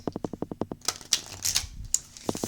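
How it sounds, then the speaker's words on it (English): A deck of tarot cards is riffled and shuffled close up, starting with a quick run of evenly spaced crisp snaps, then looser irregular rustles and taps, with no one speaking. "So, 2 more shuffles and I will get into your reading, Capricorn."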